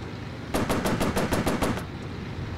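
An enemy gunner's machine gun fires in the Warplanes: Battles Over Pacific video game, a rapid burst of about nine evenly spaced sharp shots over steady background rumble, then it stops.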